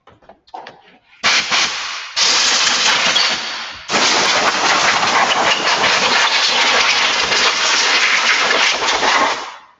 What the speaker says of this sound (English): now I'm going to blow this off with compressed air